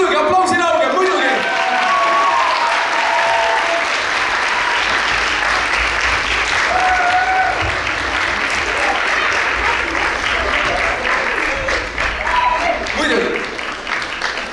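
An audience at a school dance festival award ceremony in Estonia claps loudly and continuously, with occasional cheers, shouts and voices breaking through the sustained applause.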